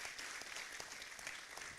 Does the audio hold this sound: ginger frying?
no